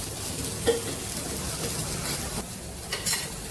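A spoon stirs nearly cooked lentils in a pot, with soft scrapes and a couple of sharper metal clinks over a low simmering hiss, close and fairly quiet.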